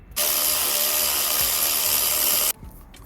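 A ratchet spins steadily for about two seconds, loosening an alternator bolt beside the DPF on a 2012 Ford C-Max, a continuous close metallic whirr that stops abruptly, then a faint clink.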